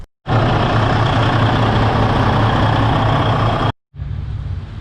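A 2011 Freightliner Coronado truck with a DD15 diesel engine roars loudly to life and runs steadily at close range, cuts off briefly, then resumes a heavy, even idle.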